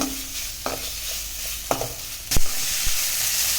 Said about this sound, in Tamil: வெங்காயம் போட்டு நல்லா வதக்கி கொடுத்துக்கோங்க